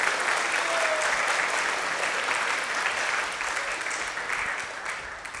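An audience at a devotional talk claps steadily together, a dense, sustained wash of applause that fades slightly toward the end.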